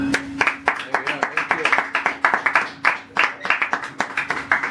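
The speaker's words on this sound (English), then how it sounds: "Round of applause for Jay." Audience claps after a live acoustic performance of a song: a close, dense burst of hand claps with irregular peaks, fairly loud and steady over a faint sustained tone.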